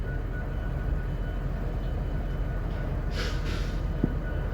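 Manifest freight train rolling north out of Kansas City, a steady low rumble held at a distance, with a brief brighter squeal partway through and a single faint knock near the end.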